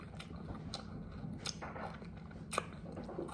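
Close, crisp crunches of biting and chewing a raw bell pepper come in a few quick snaps over a low background murmur, without speech.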